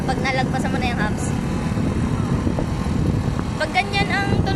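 Motorcycle engine revving under throttle during a riding lesson on the road, a rough, close drone that varies with the throttle, with voices talking over it.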